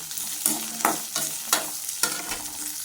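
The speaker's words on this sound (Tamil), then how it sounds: "வெங்காயம் சேர்த்துக்கலாம் வெங்காயமும் செவக்கட்டுங்க" Onions fry in a pan after garlic for a dried-fish curry, the sizzle broken by about five rhythmic stirring scrapes, close and clear with no voices.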